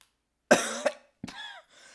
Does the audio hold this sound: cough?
yes